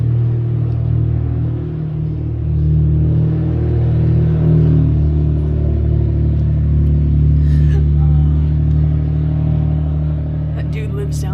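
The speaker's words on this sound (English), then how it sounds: "I know that car from the sound of it" A neighbour's car engine revs loudly as it passes down a residential street, a steady, heavy low rumble that stays close and strong for the whole stretch.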